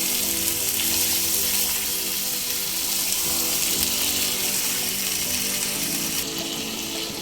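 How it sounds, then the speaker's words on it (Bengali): Boiled taro leaves and chickpeas frying in a pan over medium-high flame while being stirred, a loud, bright, continuous sizzle and hiss with faint scraping underneath, close by and unbroken for several seconds. "এবার প্রায় 8 থেকে 10 মিনিট মিডিয়াম হাই ফ্লেমে অনবরত নেড়ে ছেড়ে রান্না করে নিতে হবে"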